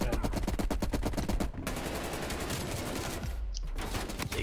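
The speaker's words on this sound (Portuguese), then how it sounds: "Dei tiro no parceiro." Rapid automatic gunfire in Call of Duty Cold War, a fast burst of evenly spaced shots followed by denser overlapping fire and explosion-like rumble, loud and close.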